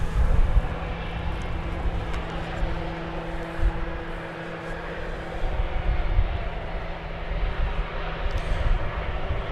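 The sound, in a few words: planes at DFW Airport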